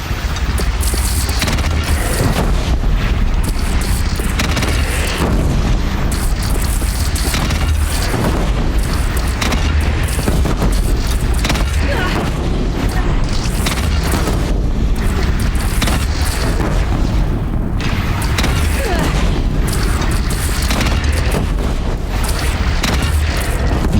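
Heavy booms and blasts from cannon fire in a bandit clan battle in Horizon Zero Dawn, rolling continuously and loud across the whole stretch with dense rumbling low end and no pauses.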